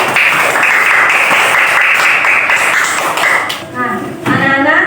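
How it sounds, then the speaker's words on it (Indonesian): A classroom of children applauds together, a dense continuous patter of clapping that holds steady for several seconds before thinning out and trailing off. "Tepuk tangannya."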